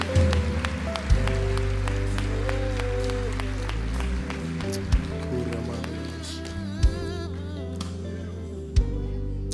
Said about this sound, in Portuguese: Peço para a igreja dar uma salva de palmas